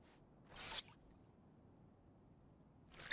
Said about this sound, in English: we're going to wring out our clothes.